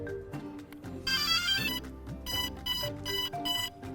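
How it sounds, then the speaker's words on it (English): The electronic speed controllers of a DJI Phantom 2 Vision drone emit a run of sharp arming beeps and tones in rapid succession, close and fairly loud, with some bursts clustered together. "Those beeps you hear are the ESCs arming themselves."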